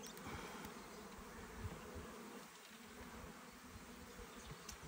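Honeybees buzz steadily and densely around an open hive during a spring inspection of frames heavy with brood and stores, the agitated swarm droning close and continuous.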